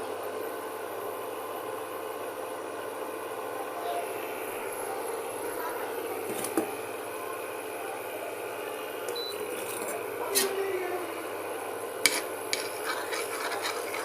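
Juice poured into a heated pan is stirred for a homemade lip-care mixture, giving a steady soft hiss with a few faint clinks of the spoon against the pan and no voices.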